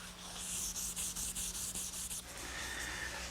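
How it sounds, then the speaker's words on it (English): Final hand sanding on a wooden long table, a close rhythmic scratchy rasp in quick back-and-forth strokes that fades into a softer continuous rub near the end. "maybe one more patch and a little bit of final sanding"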